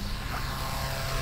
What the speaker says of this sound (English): I hear him buzzing by me.